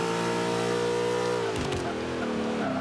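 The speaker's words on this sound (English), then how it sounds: "Ooh, a little backfire." A Ford Mustang muscle car in the racing game Forza 5, its engine loud and steady under hard acceleration, then dropping off abruptly with a short crackling backfire as the revs fall.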